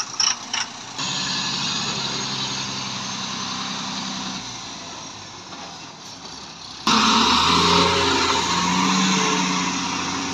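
Truck engine rumbles steadily while reversing on a road in Madhya Pradesh, a continuous close drone with broadband noise that grows louder and fuller in the final few seconds, with no talking.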